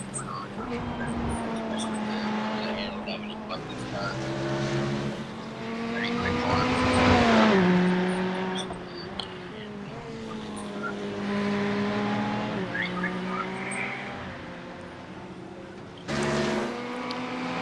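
Race car engine in the iRacing sim at Spa, a car carrying slight rear aero damage, revving and shifting through rising and falling pitch sweeps, loud and continuous, with someone talking over it.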